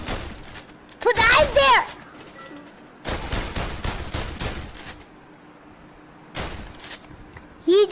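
Gunfire from the VR Worlds shooting range video game, heard as short bursts of shots separated by pauses, with a voice speaking briefly between the volleys.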